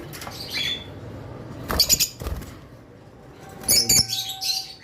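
Albino lutino Fischer's lovebirds in a cage give short bursts of sharp chirps and squawks, with quick wing flaps in several loud clusters between quieter stretches.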